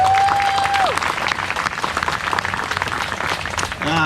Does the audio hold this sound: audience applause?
yes